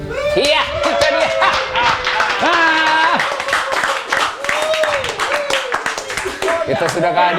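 An audience applauds the Orkes Stambul band with mixed, fairly loud clapping, while voices talk over it throughout.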